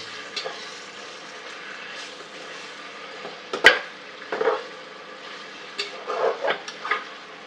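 Paneer fries in a pan while being stirred: a low background sizzle broken by scattered scrapes and clacks of the spoon, with a sharp knock near the middle and a cluster of stirring strokes toward the end.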